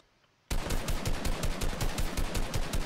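Rapid automatic gunfire from a shooting video game bursts in abruptly after a short silence, a loud, evenly spaced rattle of shots continuing to the end.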